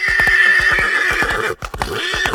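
A cartoon horse in a Hindi moral story neighs loudly in a long whinny while hooves clip-clop in a quick steady beat, then a second shorter neigh follows, no voices present.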